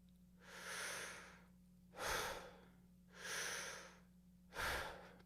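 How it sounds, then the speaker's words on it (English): A person draws slow, deep breaths, as a trumpet player does before playing, with four breathy inhales and exhales alternating in a steady rhythm. The breathing is close and clear over a faint low hum, and no one speaks. "I want you to take a breath."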